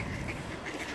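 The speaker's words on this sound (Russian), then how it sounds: "Покормить этих прекрасных уточек и селезней." Ducks and drakes on the Orlik river by a dam near a suspension bridge in cold weather, quacking in a steady chattering cluster at moderate distance over outdoor background noise.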